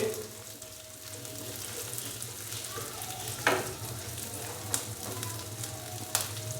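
Green chilies, slit lengthwise, fry in oil for Chicken 65 with a continuous close sizzle over a low hum, punctuated by three sharp spatula scrapes.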